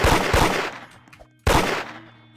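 Gunfire rattles during a fight in the video game Da Hood: two loud bursts of rapid shots, the first ringing out and fading before a second volley starts abruptly.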